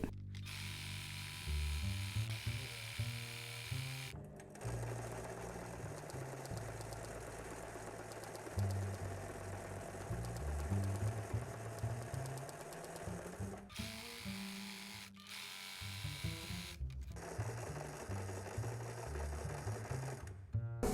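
A domestic sewing machine stitching during practice exercises, with the presser foot ignored, runs in long steady whirring bursts, loud and close, broken by a few brief stops.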